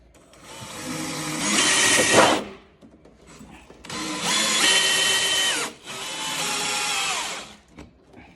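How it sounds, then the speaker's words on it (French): Cordless drill-driver sinking a lag screw into a pre-drilled hole in softwood, three loud whirring bursts of motor and bit grinding through wood, each rising then stopping abruptly, close up with no talking. "Allez, on démarre avec la perceuse visseuse"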